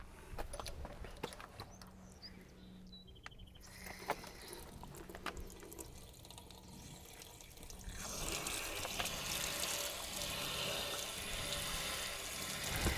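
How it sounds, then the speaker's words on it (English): Water drains through the pressure relief valve of an RV water heater, starting as a light trickle and then turning into a steady, louder rushing flow, with no talk. "Let's get this pressure release taken care of."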